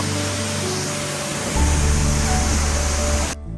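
Rushing waterfall at a swimming spot, a steady broad roar of falling water close by that swells louder midway, then cuts off abruptly near the end.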